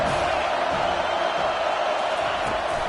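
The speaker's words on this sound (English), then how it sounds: "Decibels rising as the crowd gets behind this defense on 3rd down" Stadium crowd at a college football game, USC against Georgia State, roaring steadily as fans rally behind the defense on third down, a dense continuous wall of cheering with no breaks.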